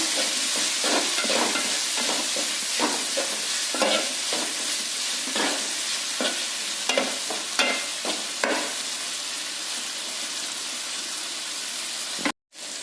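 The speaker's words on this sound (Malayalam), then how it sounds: "തക്കാളിയും കൂടി നമുക്ക് അതിലിട്ടിട്ട് നല്ലോണം ഒന്ന് വഴറ്റി കൊടുക്കാം" Tomatoes sizzle and fry in a pan for a Kerala-style crab fry, with a steady hiss throughout and repeated scraping strokes of a spoon stirring the mixture, ending in a brief cutoff.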